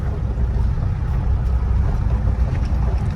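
A Mahindra Roxor off-road vehicle with a cab drives along, its engine a steady low rumble close by, blended with road and wind noise and no voices.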